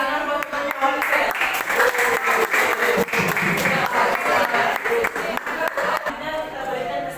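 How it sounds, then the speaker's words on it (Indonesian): A classroom of students claps for a classmate during a game-based lesson, a sustained burst of applause with many hands patting irregularly, while a voice talks over the clapping. "mana tepuk tangan buat nulis ya"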